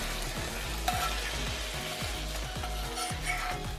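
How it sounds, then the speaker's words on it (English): Beef sears in hot oil in a pan for nikujaga, giving a soft, continuous sizzle with a low, steady crackle and occasional light stirring. "Just sear surface of beef."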